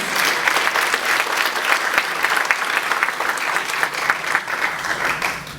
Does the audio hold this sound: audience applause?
yes